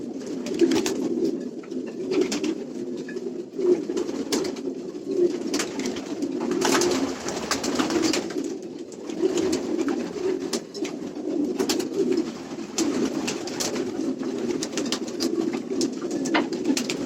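Several racing pigeons, many of them blue, coo continuously in a loft during pairing season, low, throaty repeated calls close by, with scattered sharp clicks and flutters throughout.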